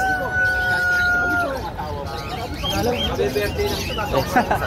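Brahma chickens, feather-footed birds at a pet market, give a few clucks and short calls amid steady market bustle, with people talking nearby throughout.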